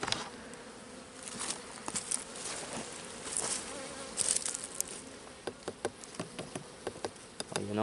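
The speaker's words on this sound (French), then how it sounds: "blindée d'abeilles." Honeybees swarm in an opened beehive after winter, a dense, steady buzzing hum close by, joined in the latter half by a series of sharp wooden taps and knocks from working the hive; no talking.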